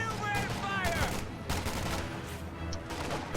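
Gunfire in a WWII strategy game, bursts of rifle and machine-gun fire crackling beneath a commentator's voice, with rapid volleys through the battle.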